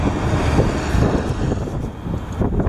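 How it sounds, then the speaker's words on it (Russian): Gusty outdoor wind roars steadily across the microphone for the whole stretch, a loud, rough broadband rush with no voices over it. "Собачки злятся на ветер."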